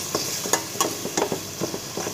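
A spoon stirs tomato ketchup into spices in a pan, scraping in quick irregular strokes over a soft, constant sizzle, close and alone.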